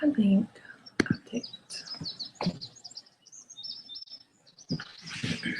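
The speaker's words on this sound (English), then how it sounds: "I can hear the birds singing." Birds chirp and tweet outside an open window on a bright morning in Alabama, with several short, high calls scattered through the clip. A person speaks softly nearby, partly over the birdsong.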